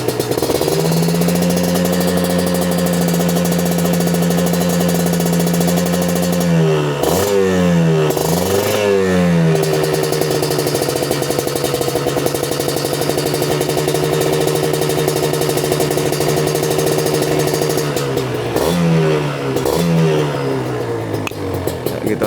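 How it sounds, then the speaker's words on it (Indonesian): A motorcycle engine warms up at idle, close and loud, holding a steady rumbling drone with a few brief revs that rise and fall around the middle and near the end. "Ini saya masih manasin motor ya, dengeran atau enggak?"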